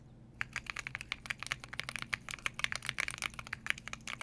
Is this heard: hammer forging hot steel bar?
no